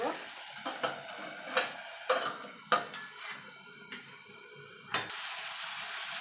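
Ridge gourd and poppy seed (posto) curry cooking in a pan, with a steady low sizzle broken by several sharp scrapes and clinks of a spoon stirring against the pan, close up and with no talking.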